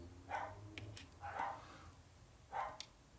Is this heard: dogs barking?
yes